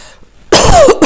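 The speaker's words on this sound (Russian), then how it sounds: "Опять кашляю, прошу прощения." A single sharp, loud cough right up close, followed by a brief second catch of the throat after a short silence.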